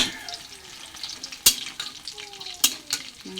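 Oil sizzles steadily in a pan of frying banana fritters with scattered pops and a few sharp clinks of a utensil against the pan, heard up close.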